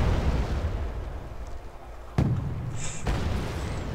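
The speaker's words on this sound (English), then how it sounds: "this is going to be destroyed by those bombs, because those are big freaking bombs" Two sharp blasts from 1,000 kilogram bombs striking tanks in the Wargame video game, the first at about two seconds and a second shortly after, each standing out against a steady rumbling battlefield background.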